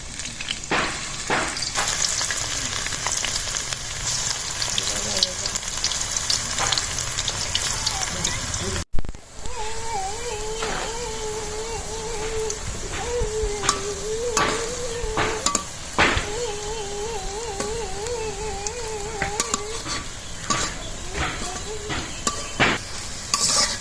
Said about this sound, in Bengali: শেপ দিয়ে কাবাবগুলোকে ভাজবেন